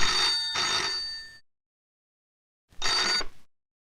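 A telephone bell rings in a 1989 Hindi horror film, sounding in two loud, bright bursts separated by a stretch of silence.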